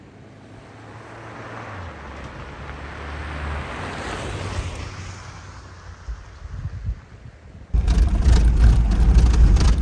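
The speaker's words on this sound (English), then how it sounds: "I'm hoping that the wind and the river noise isn't too much" Wind and a rushing river outdoors in Colorado, a continuous broad roar that builds steadily, with heavy wind buffeting the microphone in loud gusts near the end.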